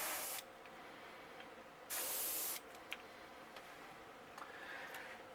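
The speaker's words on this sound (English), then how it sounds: "I'm going to go in and spray the outline on the fins." Two separate bursts of airbrush hiss painting fin outlines on a golden perch crankbait lure, a short one at the start and a longer one a moment later, with quiet ticks between.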